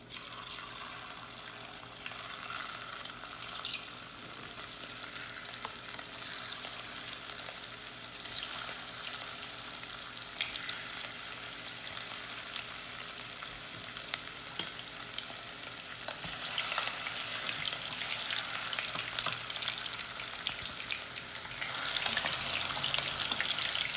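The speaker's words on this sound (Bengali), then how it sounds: "আমার ফিশ বল ফ্রাই করা শেষ হয়ে গেছে।" Chitol fish balls (kofta) fry in hot oil with a steady, even sizzle that grows a little louder and busier toward the end, with occasional stirring and no talking.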